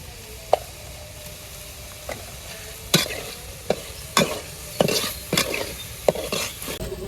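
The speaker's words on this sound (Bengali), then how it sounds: "মশলাগুলো সব একলাগে কষাই নেই। একটু লবণ দিয়ে দিলাম, একটু মরিচের গুঁড়ো দিয়ে দেই" Spices sauté with salt and chili powder under a soft, continuous sizzle, while a utensil repeatedly scrapes and knocks against the pan in irregular, close strokes; nobody speaks.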